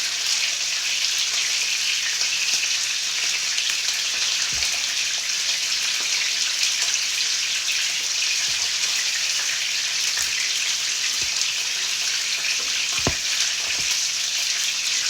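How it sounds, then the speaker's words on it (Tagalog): Small headless fish fry in a pan with a constant bright sizzle and crackle, joined now and then by faint pops and clicks, steady throughout with no voices. "Prito ko siyang walang ulo."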